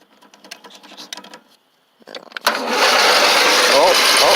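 A tractor's starter grinds as the engine cranks during a cold start, a few sputtering bursts then a sustained loud mechanical whirring that fails to catch, with someone speaking over it.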